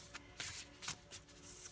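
Tarot cards being shuffled by hand, a few quick, soft riffling bursts close up and quiet, with no voice.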